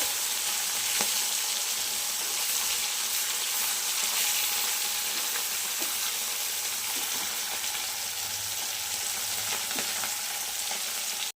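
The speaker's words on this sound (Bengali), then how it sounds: "মাছটা এক পিঠ ভাজা হয়ে গিয়েছে। এবার আমি উল্টে দিয়েছি।" Parshe fish frying in a pan after being flipped, a steady close sizzle of hot oil running throughout with occasional small pops and crackles, no talk.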